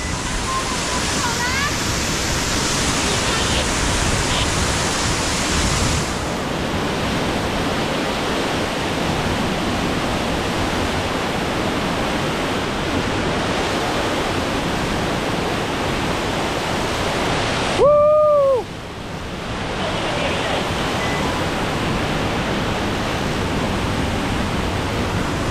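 Waterfall roaring steadily beside a via ferrata route between Mürren and Gimmelwald in Lauterbrunnen, a dense continuous rush of falling water throughout, with a brief whistle-like tone partway through.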